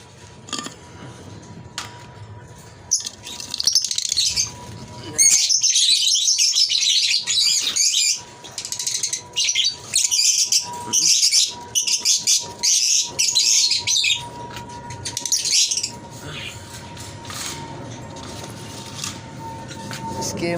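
A breeding pair of Fischer's lovebirds chirps in quick, piercing bursts, with dense runs of sharp tweets and short gaps, loud and close.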